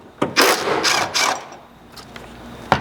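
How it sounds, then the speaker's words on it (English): A T40 Torx bit works a factory cargo tie-down hook bolt on a Tacoma bed: three quick, close ratcheting clicks in a row, then a couple of fainter ticks. "So a T40 Torx will remove that."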